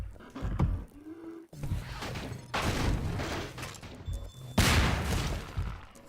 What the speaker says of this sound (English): This explosion permanently seals the cafe door